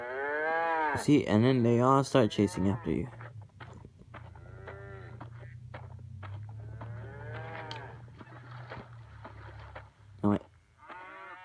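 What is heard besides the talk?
cow mooing in the video game Survival Craft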